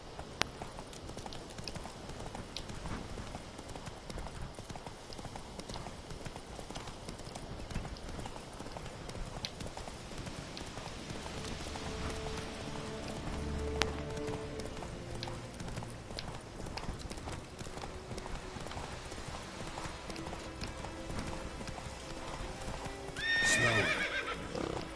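Roach, a horse in The Witcher 3, galloping with a steady, quiet clip-clop of hooves and a whinny near the end, low in level with no talk over it.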